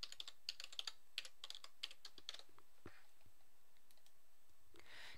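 Quiet computer keyboard typing, a flurry of light key clicks for a couple of seconds, then a few scattered taps and near silence, close and soft.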